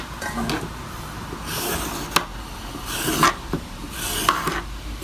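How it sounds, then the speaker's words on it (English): A vegetable peeler scraping the peel off a vegetable in a kitchen, a few close, raspy strokes with sharp little scratches, loud and without talk. "So let's get rid of the peel."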